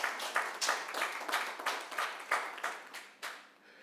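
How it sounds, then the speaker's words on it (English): Steady applause from an audience at the Made in Africa Leadership Conference, with dense overlapping claps that hold loud and near for several seconds before tapering off. "that deserves a round of applause"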